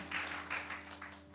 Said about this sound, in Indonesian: tepuk tangan dulu yang meriah buat Tuhan kita